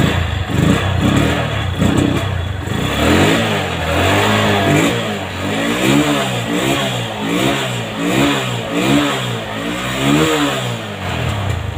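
Honda Megapro motorcycle engine cranking over and catching, then revving repeatedly in rising and falling bursts, loud and close with no talking.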